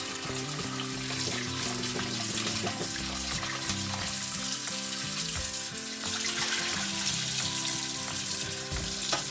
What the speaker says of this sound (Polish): W zimnej wodzie najpierw wypłukać.